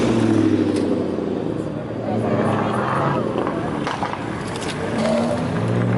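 A Volvo T6 R-Design rolls past at a car show, its engine note a steady, moderately loud drone swelling and easing as it goes by, with crowd chatter and voices throughout.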